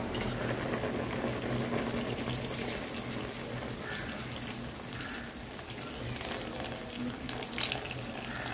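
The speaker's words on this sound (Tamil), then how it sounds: "அளவான பால்லாம் விடப்போம்." Milk goes into a boiling goat-meat curry, which bubbles and simmers in a continuous soft, dense bubbling hiss heard close up with no voices.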